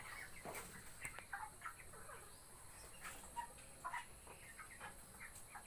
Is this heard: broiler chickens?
yes